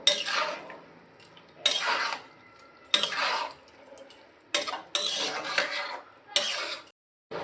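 Spices for a pea and potato curry are sautéed in a pan: about six loud, close bursts of utensil scraping and clatter, separated by near-silent pauses, with little audible sizzle.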